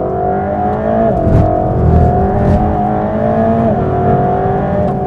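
A Mercedes-AMG GT3 race car accelerates out of a corner on a track, its engine a loud, steady, close-up drone that rises gradually in pitch, heard from inside the car without talk.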